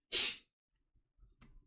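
A single short, sharp sneeze bursts out close by, followed by quiet and a few faint rustles.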